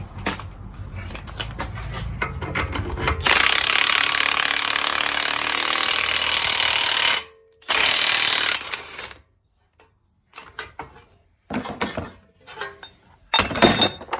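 Power tool tightening the new lower ball joint on a 2002 Acura TL Type S, a loud sustained buzzing run of about four seconds, then a short second burst, followed by scattered clinks and quieter handling noises.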